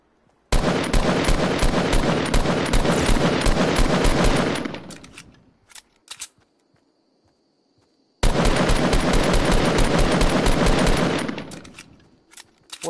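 Automatic weapon fire in Fortnite, two long, loud bursts of rapid shots, each lasting about four seconds, separated by a quiet gap with a few isolated single shots.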